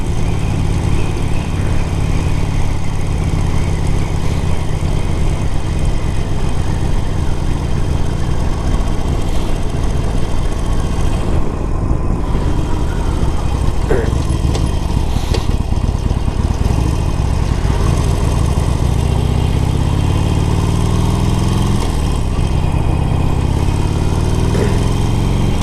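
A 2015 Harley-Davidson Sportster Forty-Eight runs close by in a continuous, loud, even engine rumble with no breaks.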